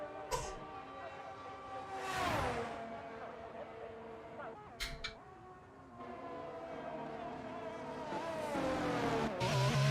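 Race cars lapping the Azerbaijan Grand Prix circuit in a racing video game, high engine whines rising and falling as cars pass, a steady drone under commentary.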